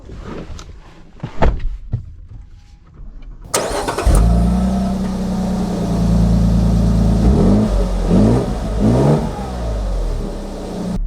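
A 2024 Lexus GX550 Luxury Plus SUV starts up with a sharp burst, then its engine hums steadily and loud as it pulls away, the revs rising and falling through several gear changes.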